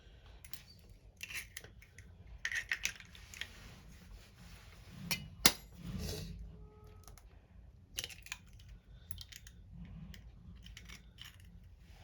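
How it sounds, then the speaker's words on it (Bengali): Three eggs are beaten with a fork in a bowl, a run of light irregular metallic taps and clinks against the bowl, close and fairly quiet, with no talk. "ডিমগুলোকে আমি এরকম একটা কাঁটা চামচের সাহায্যে খুব ভালো করে ফেটে নেব।"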